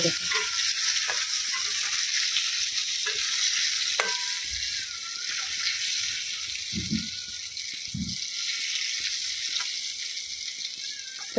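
Eggplant frying in a pan gives a steady, loud sizzle with a few soft knocks and scrapes as it is turned, no voices.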